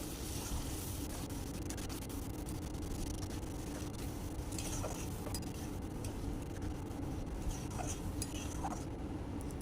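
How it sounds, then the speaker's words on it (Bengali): Chana dal being stirred in a pot in a home kitchen, with a spoon clinking and scraping faintly against the metal over a steady low background hum, no voices. "ছোলার ডালটা দিয়ে ভালোভাবে নেড়ে চেড়ে একটু ফুটতে দেবো"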